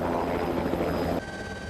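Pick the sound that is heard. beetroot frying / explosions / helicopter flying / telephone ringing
helicopter flying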